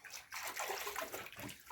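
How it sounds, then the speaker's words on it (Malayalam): Water falling and splashing outdoors in a village, a close, brief, uneven splatter and trickle with no talking. "ക്യാമറയ്ക്ക് വെള്ളം വീഴും."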